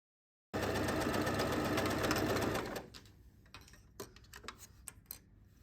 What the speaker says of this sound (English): fold it in half right sides together and sew the sides